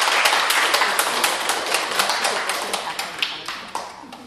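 Scattered applause from a church congregation at a Sunday worship service, moderate and uneven with individual claps standing out, fading slightly toward the end.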